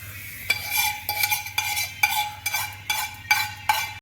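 A spoon stirs a ghee and milk mixture with gram flour in a pan for adadiya, giving repeated scraping strokes about every half second, close and fairly loud, with no voices.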